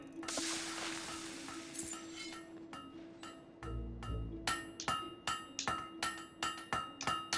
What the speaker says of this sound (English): Great hammer work there.